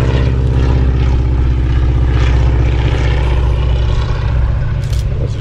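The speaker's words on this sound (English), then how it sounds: "Got the tiger moth coming in." A Tiger Moth biplane coming in at an airfield, its propeller engine droning loud and steady with a throbbing low hum throughout.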